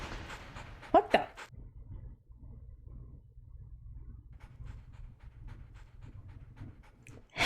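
A puppy in an anime pants and whimpers, with a couple of louder yelps near the start, then quick rhythmic panting breaths; faint voices sound briefly.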